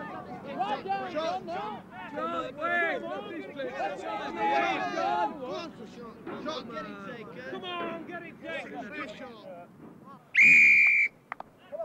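Referee's whistle at an amateur Sunday football match: one sharp, loud blast near the end, cutting through crowd chatter and overlapping shouting voices heard throughout.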